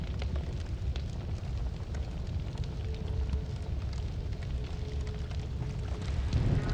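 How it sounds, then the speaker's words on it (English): Fire burning in the video game Noita: a steady, dense crackling roar that holds loud and even throughout, with a heavier rumbling swell near the end. "Oh, the whole thing's on fire."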